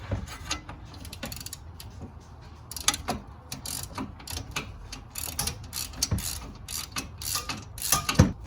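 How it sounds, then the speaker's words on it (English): A 3/8 ratchet on a swivel loosens a motor mount bolt on a 2007 Escalade with a 6.2 engine, giving close, repeated clicking strokes in irregular bursts over faint background noise. "I'm using a 3/8 ratchet this time, thinner"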